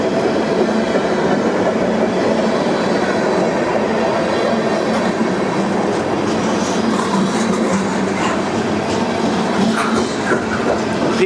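A long Paducah and Louisville Railway freight train, M513, rolls past a road crossing in Madisonville, Kentucky, its wheels and cars making a loud, continuous rumbling clatter with occasional squeals, close by throughout.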